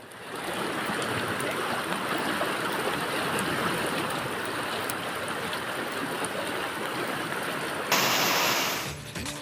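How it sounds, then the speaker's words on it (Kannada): Heavy rain in Hubli, Karnataka, pours down steadily in a dense, constant roar with no pauses, loud and close throughout. "ವಿಪರೀತ ಮಳೆ ಆಗ್ತಾ ಇದೆ"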